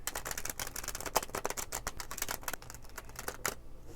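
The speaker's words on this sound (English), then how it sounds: "So I believe the cards are shuffled now." A tarot deck with holographic foil edges being shuffled by hand: a steady run of quick papery flicks and snaps, close and fairly loud, ending in a brief pause.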